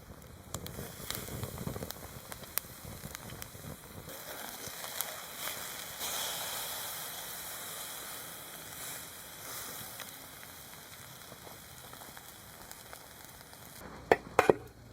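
Steak sizzles over a campfire at a rainy wild camp, a steady soft hiss with faint crackle throughout, nearby and gentle, with a couple of sharper knocks near the end and no talk.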